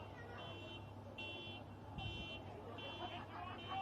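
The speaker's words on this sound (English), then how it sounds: "Make sure it's in one piece as their alarm goes off" A car alarm sounds in the distance at a country football ground during a Great Southern Football League match, a faint, steady pulsing tone repeating in regular bursts over crowd murmur.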